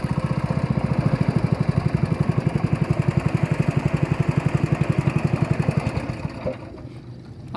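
A boat engine chugs with a fast, steady, loud throbbing beat while docking at a river pier in the Si Phan Don islands of Laos, then cuts down near the end.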